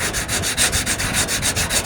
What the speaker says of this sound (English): Even I've been probably sanding for 20 minutes already.